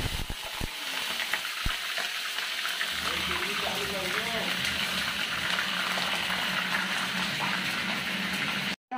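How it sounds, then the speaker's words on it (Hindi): Jackfruit pieces fry in hot oil, giving a loud, steady sizzle and bubbling that fills the whole stretch, with a few knocks at the start and some faint stirring. "इसमें हम पहले कटहल को डालेंगे, इसको तलना, इसको तलना है।"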